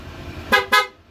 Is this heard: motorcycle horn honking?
yes